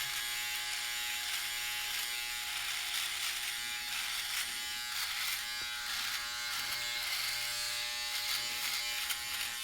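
A Philips Norelco OneBlade electric shaver buzzes steadily at close range, with slight changes in pitch as it moves over hair, no voices.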